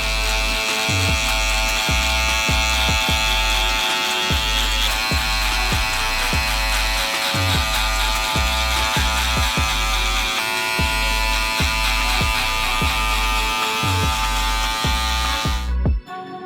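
An electric hair trimmer buzzes steadily and loudly while cutting a high fade, close up and continuous with a rhythmic pulsing texture, then cuts off abruptly at the end; no talking.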